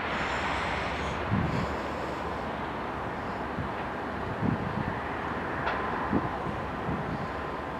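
Norfolk Southern heritage unit locomotive trailing on a coal train in Enola, Pennsylvania, heard as a steady broad rumble of a passing train with wind noise over the microphone and a few faint knocks.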